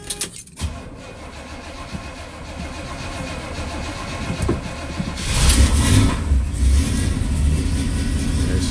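A carbureted classic muscle car engine cranks, catches and settles into a loud, steady idle that builds up close by, with no talking.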